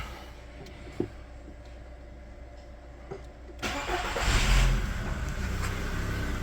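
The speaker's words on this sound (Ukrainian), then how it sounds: "Заводимо автомобіль." A VW Golf 4 with a BFQ engine cranks and catches partway through, then settles into a steady running rumble after a few quiet clicks.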